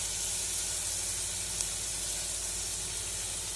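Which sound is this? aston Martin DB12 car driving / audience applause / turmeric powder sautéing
turmeric powder sautéing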